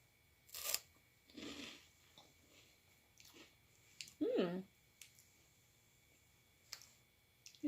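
Small crunchy sweet-salty snack bites crunched up close in a quiet room, a few separate crisp chewing bursts and soft clicks spread over several seconds, no talking.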